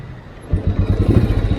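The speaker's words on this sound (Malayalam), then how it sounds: "നമുക്ക് ആദ്യം ബൈക്ക് സ്റ്റാർട്ട് ചെയ്യാം" A 1970 Royal Enfield G2 motorcycle engine catches after a quiet start and settles into a loud, steady chugging rumble close by.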